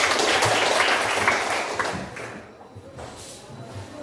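A class of students in a Christian religious education lesson gives a short round of applause, dense clapping that thins out and fades after about two seconds.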